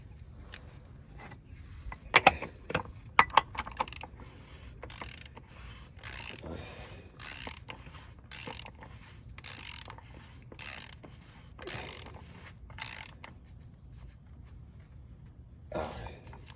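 A ratchet tool clicks steadily while tightening during an oil change on a 2023 Volvo XC90, a regular series of close, fairly quiet clicks with a few sharper metallic knocks early on.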